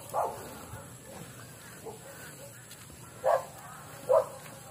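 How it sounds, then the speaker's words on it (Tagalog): Dogs bark a few times in short, separate yips and woofs, some nearby and some farther off, over the outdoor ambience of a morning walk; muffled voices talk faintly underneath. "Dodong, may aso dyan, may aso dyan."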